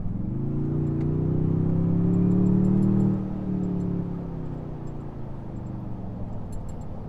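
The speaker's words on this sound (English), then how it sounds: "So I'm gonna go full throttle right here." A 2022 Toyota Tundra TRD Pro engine is pushed to full throttle, its loud, deep drone rising steadily for about three seconds, then dropping and settling to a lower hum.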